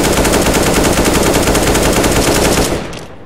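Sustained rapid automatic gunfire from a macro-controlled spray in CS:GO, a dense, loud, unbroken burst of shots that cuts off abruptly near the end, with no talking.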